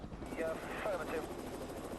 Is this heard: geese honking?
no